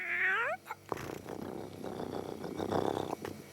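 A cartoon cat yowls in a rising, wavering meow at the start, then a busy stretch of scuffling, clattering cartoon effects and purring-like rumble follows, loud and close, with no talk.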